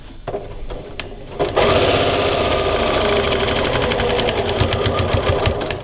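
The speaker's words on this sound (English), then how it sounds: "I'm going to sew all the way up to the little end of the thread over here" A sewing machine runs steadily, stitching mitered quilt binding up to the end of the marked thread, a close, continuous mechanical whir with rapid needle clatter that starts after a few soft handling taps.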